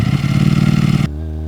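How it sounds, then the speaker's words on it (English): A short motorcycle engine rev used as an edited sound effect, a loud, close, throbbing burst that cuts off abruptly into a steadier lower tone for a moment. "I actually like that little rev."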